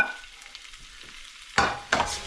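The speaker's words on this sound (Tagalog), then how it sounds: "ipiprito lang natin, ito fry lang natin yan mga kabule" Pancit canton noodles fry in a pan with a quiet, steady sizzle. Near the end come two louder scraping stirs. Nobody speaks.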